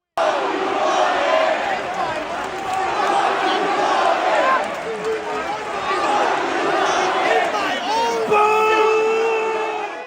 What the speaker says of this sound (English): Logan often being booed by the audience